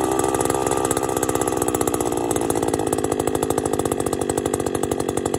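Eskimo Stingray S33 ice auger engine running after a start, a loud, close two-stroke buzz with a rapid steady putter and rising revs throughout, no voices.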